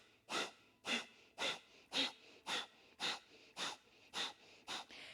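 Forceful pumping exhales in yoga breathing come as ten sharp, evenly spaced breathy bursts roughly every half second, close and clear with no talk.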